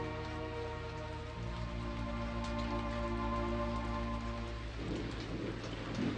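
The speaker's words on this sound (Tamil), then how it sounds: "என்ன கண்ணு இந்த மழையிலையா?" Rain falls steadily in a continuous broad hiss, with low rumbling like distant thunder beneath a sustained musical drone, without pauses throughout.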